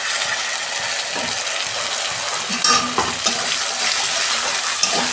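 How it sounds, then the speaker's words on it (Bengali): Tomato paste hits a pan of fried onions and oil, giving a dense, constant hiss with stirring clatter on top, close and loud, with no talk. "বন্ধুরা, পেঁয়াজ ভাজা হয়ে গেছে, আমি টমেটো দিচ্ছি।"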